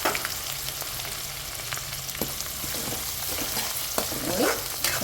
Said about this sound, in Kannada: ಸೊ ಈಗ ಈರುಳ್ಳಿ ಮತ್ತು ಕರಿಬೇವನ್ನ ಆ್ಯಡ್ ಮಾಡ್ಕೊಳ್ಳೋಣ